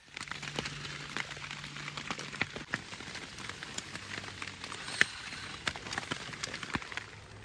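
Steady rain patters on a cheap 6x8 tarp shelter, with a dense hiss of drops and scattered louder taps and plinks, heard up close with no voices.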